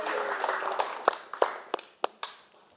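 At a stand-up comedy roast, applause starts under a voice, then thins into a few scattered, sharp individual claps that die away over about three seconds.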